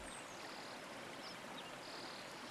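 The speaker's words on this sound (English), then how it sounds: "clear water bubbles up from a shallow pool, ringed by smooth pebbles and tufts of feathery reeds" Gently flowing creek water bubbling up from a shallow pebble-ringed pool among reeds, a steady soft trickling and babbling wash with no voices.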